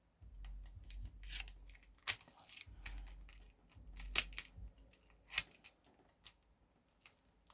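Die-cut paper pieces are peeled off a sheet in a run of quick, close crackling rips and papery crinkles, irregular and fairly faint, with small taps and handling noises between them and no talking.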